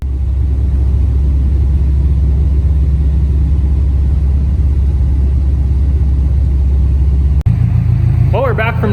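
A Subaru WRX on a test drive gives a steady, loud low engine rumble with road noise throughout, then a sharp knock near the end before the drone carries on with a faint rising whine.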